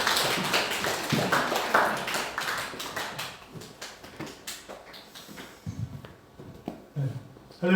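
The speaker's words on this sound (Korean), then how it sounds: "우리 함께 박수로 환영해 주시면 감사하겠습니다." Church congregation clapping to welcome a guest preacher at a Sunday service, a dense wash of applause that thins out into scattered claps and a few thuds, no talk.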